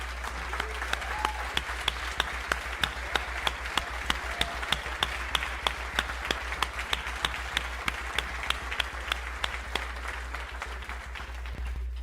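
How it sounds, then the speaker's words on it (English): A large audience at a 2022 Aquinas Institute Hall of Fame ceremony gives past inductees a long round of applause, a steady dense wash of clapping with sharp individual claps standing out throughout. "Could all of our past inductees please stand up so we can give you a round of applause?"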